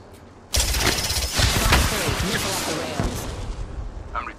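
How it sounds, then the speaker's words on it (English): A loud, sustained burst of gunfire in the video game Apex Legends, Season 12, opens sharply after a brief quiet moment and continues as rapid overlapping shots before it fades slightly near the end. "I am taking fire."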